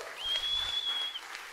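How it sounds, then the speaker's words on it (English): Applause from the audience at a closing plenary of a global environmental justice conference, moderate and steady for about a second before it fades, with a faint electronic whine running through it. "Julia, let's put up a round of applause for Julia Simon,"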